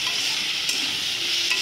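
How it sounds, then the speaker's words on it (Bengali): Vegetables and spices stir-frying in a pan give a steady, close hiss of sizzling, with a couple of faint spatula scrapes. "এবার আমি মশলার সঙ্গে সব সবজি ভালো করে মিক্স করে নেব। 2 মিনিট মতন একটুখানি কষিয়ে নেব।"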